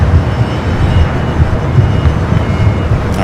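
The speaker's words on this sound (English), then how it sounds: "the Dreamliner now starting its roll down 25 right" A Boeing 787-9 Dreamliner begins its takeoff roll down runway 25 right at LAX, a broad steady engine roar with low rumble filling the whole stretch at fairly loud level, no voices.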